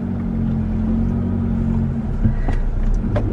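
A car's engine rumbles steadily while reversing in traffic, a close low drone with a faint click or two near the end.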